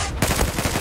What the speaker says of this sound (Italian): Dai che gli ho sparato, maledetto biondino.